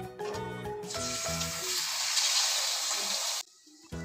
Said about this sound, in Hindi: कुकिंग ऑयल के अंदर मैं मैरिनेशन किया हुआ चिकन अब डाल रही हूँ।